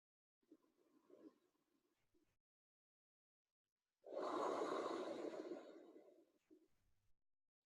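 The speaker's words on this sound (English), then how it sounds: "Keep breathing out loud." A person breathes deep and slow out loud, first a soft inhale and then a long, loud exhale that fades away, close and alone.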